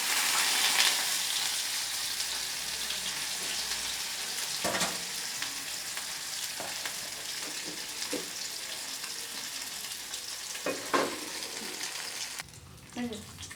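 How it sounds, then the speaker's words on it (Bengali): Fish frying in hot mustard oil in a wok gives a steady, close sizzle that runs almost unbroken, with a few brief clinks and stirring sounds, before it drops away near the end. "এবার আমি মাছ দিয়ে দিচ্ছি।"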